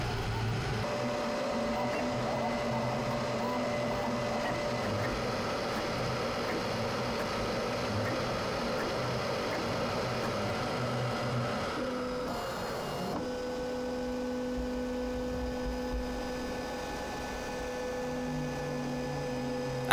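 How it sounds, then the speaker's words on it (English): A QiDi Tech Q1 Pro high-speed 3D printer running a PLA test print, a continuous whirring hum with steady tonal motor whine and shifting pitches partway through, close and even in loudness, with no voices. "I loaded in some PLA and started the test print"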